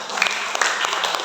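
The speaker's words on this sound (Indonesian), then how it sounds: "Tepuk tangan dulu." Brief burst of congregation applause during a church service, a dense even patter of many hands clapping at moderate volume, lasting only a moment.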